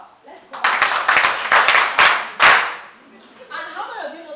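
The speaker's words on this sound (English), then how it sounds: "Please, can we clap?" A small audience claps in several loud bursts over about three seconds, with a few individual claps standing out, before a voice begins speaking.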